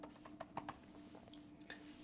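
Keys tap on a computer keyboard in a short quiet burst of irregular clicks, several light strokes over a faint steady hum.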